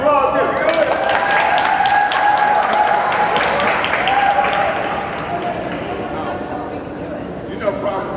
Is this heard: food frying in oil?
no